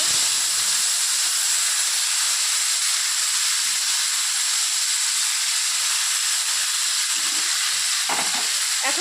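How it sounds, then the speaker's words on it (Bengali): Mung dal ladled into hot oil for a tempering in a home kitchen, giving a steady hissing sizzle that runs loud and unbroken throughout, with a few brief stirring clinks near the end. "এখন এর মধ্যে ডাল দিয়ে দিব"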